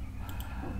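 Two quick, faint mouse clicks in close succession over a steady low background hum, with no talk.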